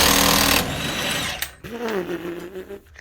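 An impact wrench rattles off the front axle nut of a Subaru during a wheel bearing change, a loud, dense buzzing burst for about half a second that stops abruptly, followed by someone talking.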